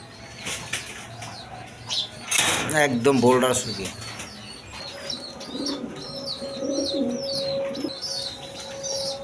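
Pigeons kept for sale, including male birds, coo and flap their wings at close range, with a burst of wingbeats early on and soft calls afterward, while someone speaks briefly over them.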